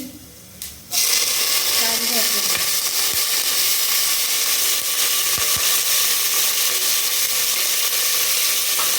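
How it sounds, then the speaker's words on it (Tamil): Urad dal and chana dal sizzle and fry loudly in hot oil in a pan for leftover rice, after a brief quiet start, with a dense steady hiss that carries on under faint occasional clatter. "அப்புறம் ரெண்டாவது உளுந்து கல் பொரிஞ்சிருச்சு"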